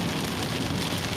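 Rain falls on a roof during a Midwest tornado outbreak, a dense, steady hiss of drops patters throughout the brief moment, fairly loud and without speech.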